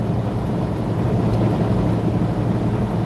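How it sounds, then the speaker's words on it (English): A Peterbilt truck's engine, heard as a loud, steady low droning rumble from inside the cab that goes on without a break and has no talking over it. "Yes, Joshua, this is a Peterbilt."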